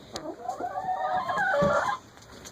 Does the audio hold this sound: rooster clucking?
yes